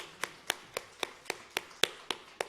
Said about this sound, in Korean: 우리 하나님께 영광의 박수로 찬송 올려드립니다